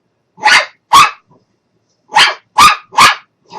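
Inside a home, a dog lets out sharp, loud barks close by, two quick ones, a pause, then a rapid run of three more, with silence between.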